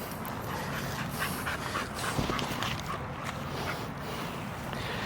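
Dogs playing roughly, one pawing at and jumping on the other, with faint panting and whimpers buried in a steady wash of outdoor noise.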